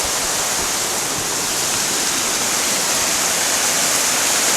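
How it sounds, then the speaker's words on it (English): Benlister Falls near Lamlash in spate after heavy rain, a steady, loud, unbroken roar of rushing water that holds even throughout, with no voices. "The river's in spate, and I'm expecting to see the waterfall at its very best."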